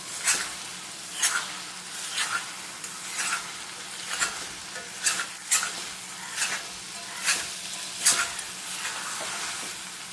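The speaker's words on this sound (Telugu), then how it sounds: "పచ్చిమిర్చి వేసుకుని ఒకసారి బాగా కలిపి కొత్తిమీర వేసుకుందాం." Mutton liver fry with curry leaves and green chillies being stirred in a pan, a steady sizzle with regular sharp scraping strokes of a spatula, close and clear, no talking.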